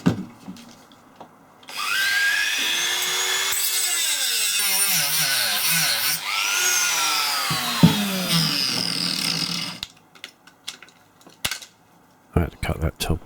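A power saw cuts the top off a scrapped sewing machine, a loud, close whining grind that runs for about eight seconds with shifting pitch, then stops, followed by a few scattered clanks.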